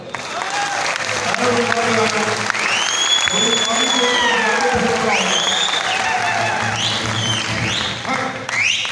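Applause from an audience at a live stage show featuring a bhoot dance, a dense continuous clatter of clapping and crowd noise mixed with music and voices, steady and loud throughout.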